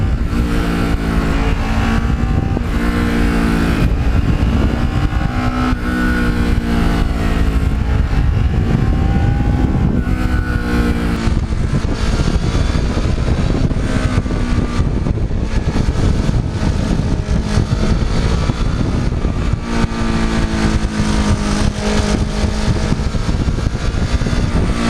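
A black Kawasaki Ninja motorcycle laps a racetrack, its engine loud and close, rising and falling in pitch through repeated revs and shifts with a steady roar for the whole stretch.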